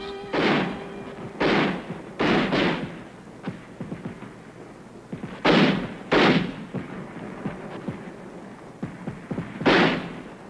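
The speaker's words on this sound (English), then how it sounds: "Mortars blast at the approaching Reds who threaten to cut off the combat teams" Mortars fire at advancing Red troops near Uijeongbu during a Korean War spring offensive, giving about seven loud, booming blasts in irregular bursts, some paired close together, over a low rumbling background.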